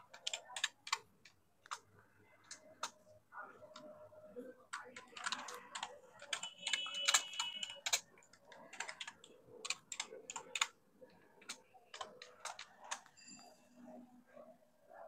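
Python print statements being typed on a computer keyboard: a close, steady run of quick, clicky keystrokes in bursts, with brief pauses between lines.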